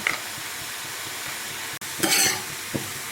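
Boondi drops fry in hot oil with a steady, close hiss and sizzle, broken by a sharp metallic stirring scrape and a short burst of louder frying as the pieces are turned, with no speech.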